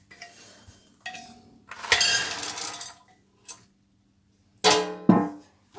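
Goma beans rattle and clink into a metal cooking pot in a few separate bursts of clatter, with quiet pauses between them.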